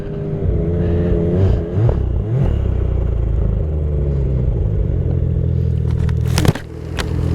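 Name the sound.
Ski-Doo snowmobile driving past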